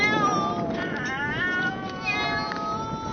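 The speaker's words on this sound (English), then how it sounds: "These cats will now live the cushy life, though they don't seem to know it just yet." Feral cats from San Nicolas Island, recently rescued, meow repeatedly in overlapping, insistent calls, close and fairly loud over a constant background hiss.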